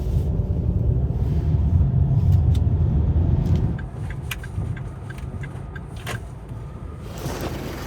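Car driving to a mechanic shop, a steady low engine and road rumble that drops to a quieter hum midway, with faint clicks and light ticking over the top and no talking.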